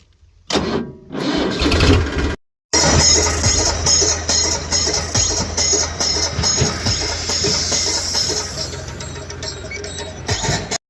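A tractor engine cranks, cuts out briefly, then catches and runs with a loud, steady chugging rumble close by.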